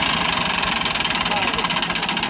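A tractor engine labouring while stuck in a village field in Pakistan, a loud, steady rumbling drone with rhythmic knocking pulses, close and continuous.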